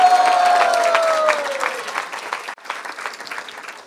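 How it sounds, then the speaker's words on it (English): At a devotional kirtan festival, a crowd applauds loudly and densely. A held tone sounds over the clapping at first, then the applause thins slightly and continues. "Give him a big round of applause."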